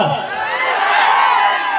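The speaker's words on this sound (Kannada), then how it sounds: "ಬರ್ಲಿ ಒಂದ್ಸರಿ ಜೋರ ಚಪ್ಪಾಳೆ ಅನ್ಕೊಡ್ರಿ" A crowd at a live comedy and folk-song stage show in Kankanawad, Bijapur, applauds and cheers continuously, a dense steady wash of clapping and whoops at close range.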